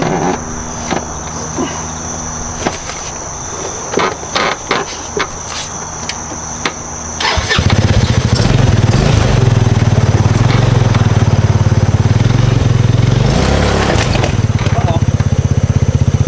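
A 250cc Hammerhead go-kart engine in need of repair, loud and near, with clicks and rattles before it catches around the midpoint and then runs with a steady rough drone, crickets chirping and a voice briefly heard.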